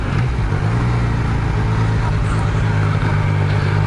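Yamaha Niken three-wheeled motorcycle ridden along a dark street at night, a steady close engine drone with wind rush, constant and unbroken throughout.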